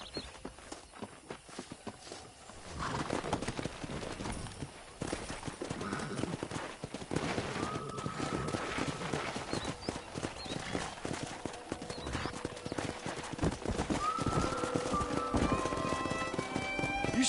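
Horses in the Western video game Red Dead Redemption: dense clip-clop of hooves trotting across ground, building in loudness after a quieter start, with occasional whinnies and neighs breaking through the steady hoofbeats.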